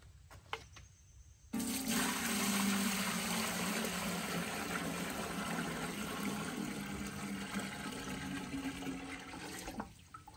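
Water pours steadily into a large homemade elk euro boiling pot for about eight seconds, a loud continuous rushing fill that starts abruptly and cuts off near the end, with no talking.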